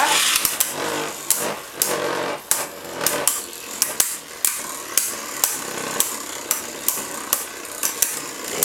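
Beyblade Burst God spinning tops clash in a plastic stadium, a dense run of sharp metallic clacks and bursts of scraping at an irregular rhythm, loud and close with no voices.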